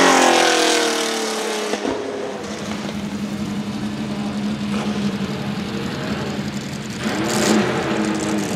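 Porsche 917K race car in road-legal trim at the Goodwood Festival of Speed, a loud engine roaring past then settling into a steady rumbling drone, rising again near the end, heard outdoors with no talk.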